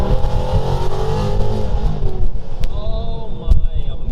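A 900-horsepower full carbon fiber Revenge GT Mustang supercar engine revs loud and close, a dense rumble rising and falling with a sharp burst near the end, with a voice partly over it.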